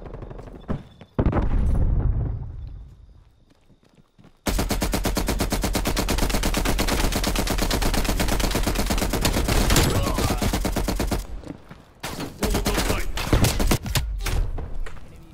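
Rapid automatic gunfire in Call of Duty: Black Ops Cold War multiplayer, loud sustained bursts with heavy thumps, broken by a short pause and then further firing, with a player's voice talking over part of it.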